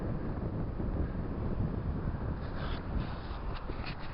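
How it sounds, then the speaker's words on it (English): Wind gusts and swirls through a roofless stone ruin on the Scottish coast, a steady broadband rush buffeting the microphone without pause and with no voices. "The wind's just swirling round and round in here"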